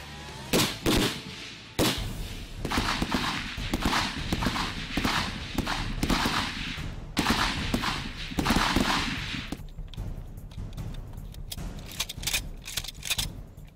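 Rapid volleys of sharp gunshots from Indonesian Marine cavalry regiment live-fire shooting practice crack repeatedly at close range, dense bursts followed by a few scattered, fainter shots.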